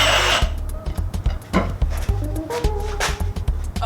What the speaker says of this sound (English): need to drill some pilot holes and put in some fasteners in the back of all these dowels